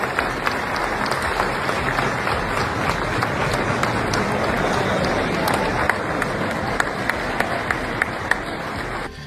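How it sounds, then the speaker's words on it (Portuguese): Guests at a World Economic Forum gathering give Trump a standing ovation, a dense, loud, sustained wall of clapping from a large crowd with no break. "os convidados ainda aplaudiram Trump de pé"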